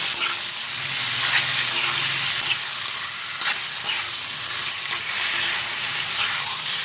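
Chicken pieces for sweet and sour spicy chicken being stirred and fried in a pan, a loud, continuous sizzle with bursts of scraping and tossing, close up.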